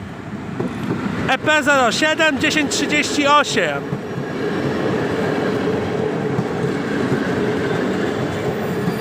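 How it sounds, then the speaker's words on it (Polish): A Polish passenger train, the TLK Wyczółkowski, pulling into a station platform in Goleniów, with a loud rumble and brief tonal squeal followed by steady rolling noise; a station announcement voice is heard early on. "Wjeżdża pociąg Telka Wyczółkowski"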